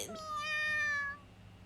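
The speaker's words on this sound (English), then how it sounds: "Just then, we hear a tiny meow from inside." A small cat meows once from inside a box, a clear rising-then-falling cry lasting about a second, close and fairly quiet against a soft background hum.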